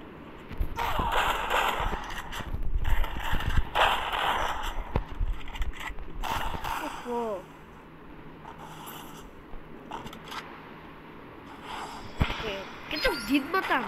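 Gunfire in a shooting video game comes as bursts of sharp shots in the first half and scattered shots later, while a player talks over much of the action.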